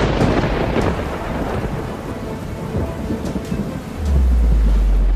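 Heavy rain pours steadily in a thunderstorm, with rolling thunder rumbling through and a deep, loud boom swelling near the end; no voices.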